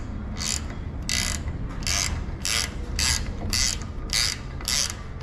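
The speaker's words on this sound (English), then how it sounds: "I'll just use the big ratcheting wrench." Big ratcheting wrench turning a bolt on a 2018 Jeep Wrangler under collision repair, giving eight loud, regular bursts of clicking at a steady pace of about two per second.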